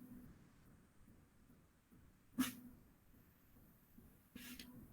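A dog inside a home gives two short, sharp barks a couple of seconds apart, heard at a moderate distance against a quiet room background.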